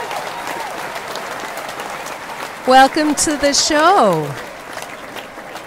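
An applause sound effect on a radio call-in show plays as a wash of clapping crowd noise, while a voice speaks briefly over it partway through.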